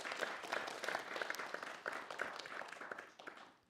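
Audience applause at an ICAT Playdate talk in the Cube, a steady wash of many hands clapping close by that holds for several seconds, then thins out and fades toward the end.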